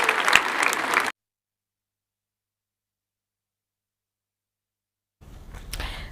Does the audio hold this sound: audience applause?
yes